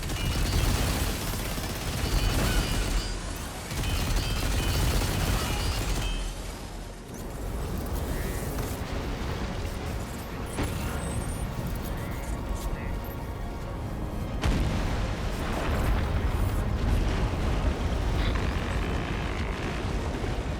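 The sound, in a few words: cannon gunfire and explosions in the video game Death Stranding 2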